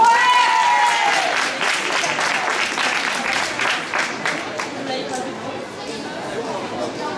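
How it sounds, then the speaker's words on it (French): An audience applauds at an awards ceremony at a sports competition, giving a dense, sustained wash of clapping from a crowd that gradually thins, with chatter and a voice speaking over it. "Allez, on les applaudit!"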